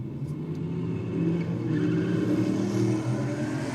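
Nissan S15 and a BMW roll racing side by side, engines droning loud and steady with a low rumbling tone that swells slightly as they pull, no voices over it.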